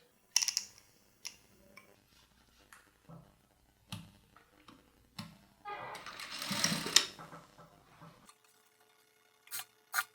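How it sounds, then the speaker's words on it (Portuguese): Straight-stitch sewing machine joining handmade binding onto a gathered dress sleeve opening, heard as short bursts of whirring stitching separated by pauses, with one longer run in the middle, close and moderately loud. "eu vou lá para a máquina reta passar uma costura aqui para unir o debrum manual nessa boca de manga franzida"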